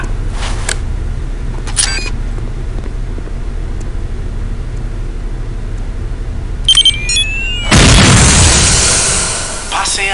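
A radio-controlled bomb detonates in Counter-Strike: Condition Zero, a loud broadband blast erupting near the end after quieter game beeps and clicks, then a roaring decay; no spoken words.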